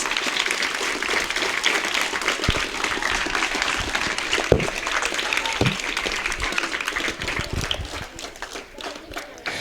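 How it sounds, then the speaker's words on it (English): A crowd at a student sports championship presentation gives a hearty, sustained round of applause, with dense continuous clapping and a few louder knocks, fading slightly toward the end. "I want you once again to give Jorick a hearty round of applause"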